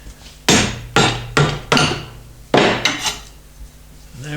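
A rubber or hide hammer strikes a homemade tube bender, landing about seven sharp, loud blows in an uneven rhythm, with clanging metallic ring after each hit and no talking.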